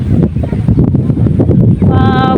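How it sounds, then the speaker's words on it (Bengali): Strong wind sweeps over a flooded village wetland, roaring as loud, continuous buffeting close to the microphone, with a brief tonal sound near the end. "প্রচুর বাতাস প্রচুর বাতাস"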